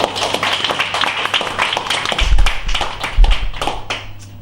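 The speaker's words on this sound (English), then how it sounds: "Give a round of applause." Audience applause after a speech at a speakers' club session, a short burst of close, sharp hand claps from a small group with a few low thumps, fading out after about four seconds.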